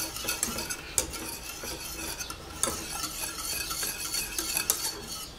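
A spoon stirs and scrapes a thickening cooked flour-and-milk frosting base in a pot for French buttercream, with continuous close scraping and occasional sharper knocks against the pot's edges, no voices.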